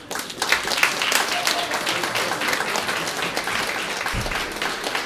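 A concert hall audience gives steady, loud applause at a jazz benefit evening honoring a quintet leader. The clapping runs continuously throughout, with a voice speaking over it.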